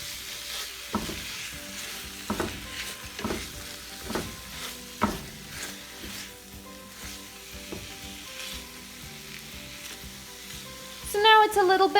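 Ground meat and onions sizzle and fry in a pan, a steady crackle broken by regular scraping stir sounds, close and clear, with a brief voice at the end.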